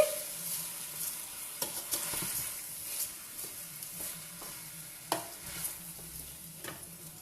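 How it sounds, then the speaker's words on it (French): Rice being stirred into a pot of chicken and chorizo, with scraping strokes of a spoon at irregular intervals over a soft background sizzle, close and fairly quiet. "Donc vous mettez votre riz aussi dans votre marmite. Vous mélangez."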